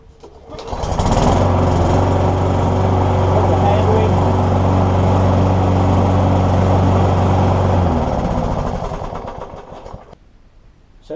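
A Hayter Osprey 46 petrol lawn mower starts up and runs at a steady loud drone for several seconds before winding down and stopping, with a voice briefly heard.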